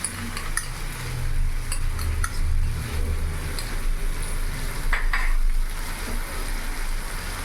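Ginger, garlic and chili paste stirred in a hot pan for chicken curry: a steady oily sizzle with scattered scrapes and light clinks of a utensil against the pan, close and continuous with no talking.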